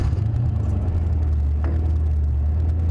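A Mercury Cougar car engine idling steadily after starting, a low smooth rumble heard from inside the car with a brief faint click partway through and no talking.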